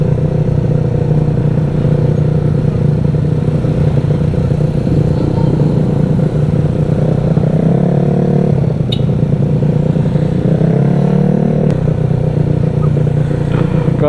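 A small Vespa scooter engine hums steadily amid dense traffic noise, with a faint rise in revs partway through and a couple of brief clicks.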